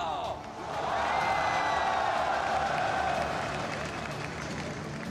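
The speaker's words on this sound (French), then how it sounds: "un tonnerre d'applaudissements pour Karsta" Large arena crowd applauding and cheering at a League of Legends esports opening ceremony, MSI 2018, a loud sustained roar of clapping and voices with a ringing musical tone underneath throughout.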